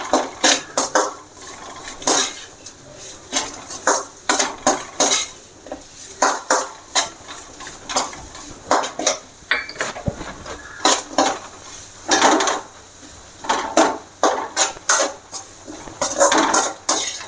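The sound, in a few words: breaking jaggery and apple pieces in a pot for rasam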